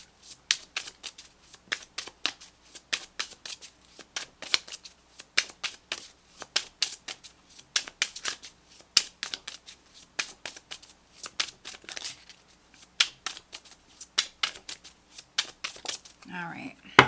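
Tarot cards being shuffled by hand in quick, crisp bursts of riffling and snapping, close and clear, repeating in uneven clusters with short pauses and a brief rustle at the end.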